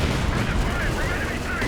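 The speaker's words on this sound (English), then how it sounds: "Artillery barrage onto the Zis here." Artillery barrage landing in a Company of Heroes 2 match, a steady roar of dense rumbling blasts and crackling gunfire filling the whole moment at a loud, even level.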